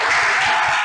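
Steady, dense applause from a small group closing a school activity, a continuous patter of hands at even loudness with no talk on top.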